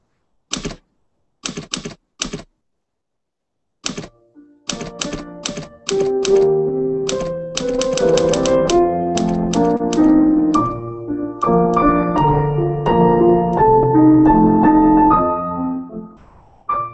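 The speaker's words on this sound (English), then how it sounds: "I wanted a typewriter." An old mechanical typewriter is typed on, opening with a few isolated key strikes and then settling into a busy, continuous clatter of keys, carriage and bell-like dings, close and alone with no talking.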